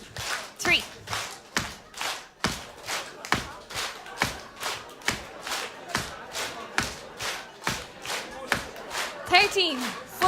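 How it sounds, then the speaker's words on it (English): Dancers at a live Irish festival night clap together in a steady, even rhythm, about sixteen sharp group claps at a brisk tempo, with an instructor's voice calling counts over them. "So clap 1, clap 2, clap 3, clap 4, all the way to 16."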